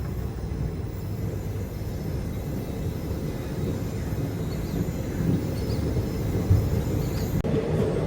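A train, the Tirupati–Kolhapur–Mumbai Haripriya Express, is moved back near Tirupati station. It makes a steady low rumble with continuous mechanical noise, heard close and unbroken, with no talking.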